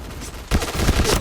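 A sudden burst of rapid gunfire in the game Point Blank, loud and close, starting after a brief quieter moment.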